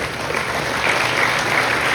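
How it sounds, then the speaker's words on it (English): An audience at an honors recognition ceremony applauds in a steady, dense wash of clapping that holds evenly for the whole stretch. "Can you all give her a round of applause"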